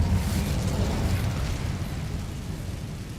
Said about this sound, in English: Красива паутина горить.